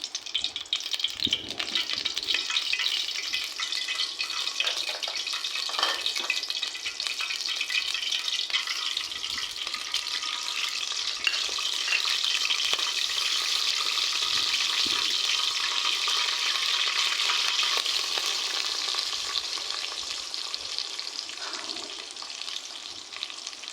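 Chicken meat frying in oil in a pot, a continuous, close, crackling sizzle that holds steady for over twenty seconds, with occasional faint stirring sounds and no talking.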